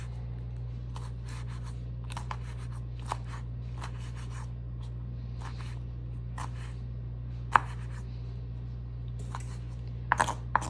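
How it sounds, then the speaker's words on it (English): A knife chops ingredients finer on a cutting board for a sriracha ranch chicken flatbread, giving irregular light taps and clicks, some sharper, over a steady low hum, with no talking. "we'll just chop these up a little finer"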